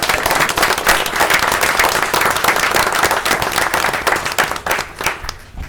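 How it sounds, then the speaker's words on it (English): A large indoor audience breaks into sustained, loud applause, dense clapping carrying on steadily for several seconds before starting to thin out at the end. "Let's give her a good round of applause."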